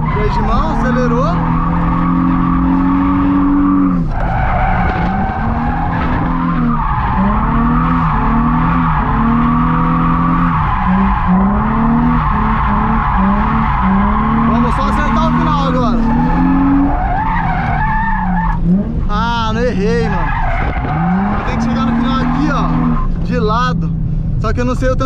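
A car drifting on a handbrake turn, with a high engine revving steadily in second gear under long, wavering tire squeals and skids, loud and close throughout while someone talks over it.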